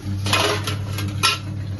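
A metal lid goes onto a cooking pot of palak paneer curry with potatoes, giving a few sharp clanks and rattles close by, with a low steady hum underneath.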